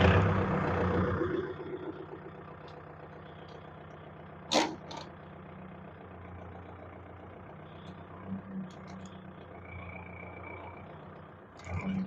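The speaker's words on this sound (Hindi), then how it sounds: "ये चीज अभी कर देता हूँ स्टार्ट करके ट्रैक्टर।" A Kubota tractor engine starts with a loud burst, then settles into a steady, low diesel idle with a faint clank or two along the way.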